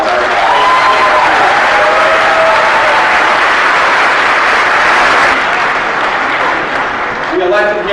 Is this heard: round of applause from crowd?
yes